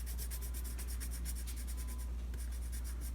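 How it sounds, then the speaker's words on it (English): Graphite pencil shading back and forth on paper while filling in a figure drawing, a steady rapid scratching rub close by, continuous throughout with a brief pause near the end. "we're going to tackle it and fill it right in with the pencil"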